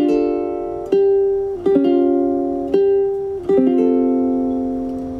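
Ukulele chords strummed with the fourth string left open, a jazzy sixth-chord voicing; four or five separate ringing strums, each sustaining and fading, played alone with no talking.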